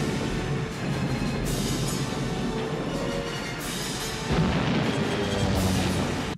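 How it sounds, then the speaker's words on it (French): A massive zeppelin explosion in a film scene: a sustained loud rumbling roar of blasts and debris, dense and continuous throughout with no speech. "un zeppelin qui va finir dans une explosion extraordinaire"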